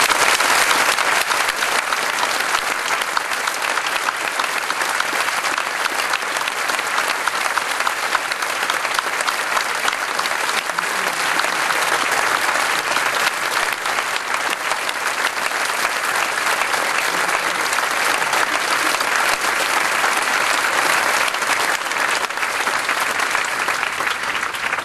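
An audience at a school prizegiving ceremony applauds the year's leavers, loud sustained clapping from a large crowd that carries on evenly for the whole stretch without a break.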